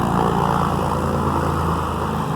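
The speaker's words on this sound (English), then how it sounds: "this aircraft right here is trying to head out to the taxiway so that it can take off." A propeller aircraft taxiing out toward the runway for takeoff at an airfield, a steady droning engine and prop hum that holds loud and close throughout with no talk.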